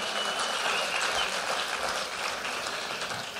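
Sustained applause from the audience at a senior women's pageant, an even, continuous wash of many hands clapping at moderate distance, steady throughout with no voices over it.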